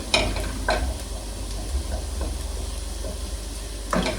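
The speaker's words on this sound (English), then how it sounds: "Kind of want to brown the garlic a bit." Garlic sizzles and browns in a pan for a vegan scalloped potatoes dish, a steady close frying hiss broken by a few stirring scrapes, with no talking.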